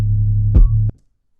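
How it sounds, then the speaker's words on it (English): A deep, sustained 808 bass note from an 808 Essentials kit plays alone, with a brief pitch glide in the middle, then cuts off abruptly. "And then finally we have the 808"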